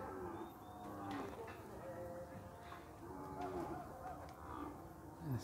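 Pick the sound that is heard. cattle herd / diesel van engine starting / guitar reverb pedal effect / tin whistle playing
cattle herd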